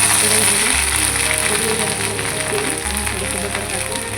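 Green chili and ginger, finely pounded in a mortar, sizzle in hot oil in an iron wok. The hiss is loud, steady and close, and a voice talks over it.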